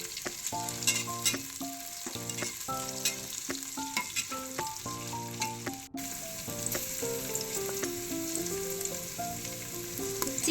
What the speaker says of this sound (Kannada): ಬೆಳ್ಳುಳ್ಳಿ ಫ್ರೈ ಆದಮೇಲೆ ಸ್ವಲ್ಪ ಹಸಿಮೆಣಸು,